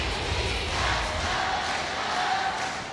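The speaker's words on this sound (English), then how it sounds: "Chants from the crowd here in Manila, Philippines for Alas Pilipinas coming off that timeout" Dense, steady roar of a large crowd chanting and cheering for Alas Pilipinas at an AVC Challenge Cup volleyball match in Manila, continuous and loud throughout with no clear individual voices.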